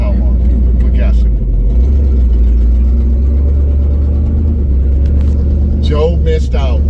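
A 1960 Pontiac Bonneville on its first drive in years, its engine rumbling low and steady, loud and close throughout, with people talking over it.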